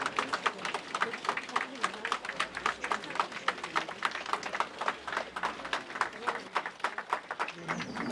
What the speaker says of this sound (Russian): Из зала суда Орлова провожали аплодисментами